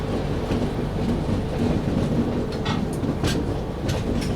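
Kanyakumari Pune Express passenger train rolling through a sharp curve, with a steady close rumble and rattle of coaches, faint clickety-clack and light wheel squeal throughout.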